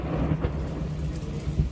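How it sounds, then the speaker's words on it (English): Low rumbling thunder rolls steadily through a nighttime thunderstorm, with rain hissing underneath and a couple of stronger swells near the start and end. "That is some thunder."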